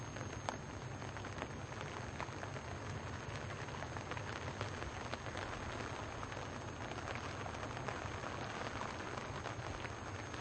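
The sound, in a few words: rain falling on bivvies at a carp fishing lake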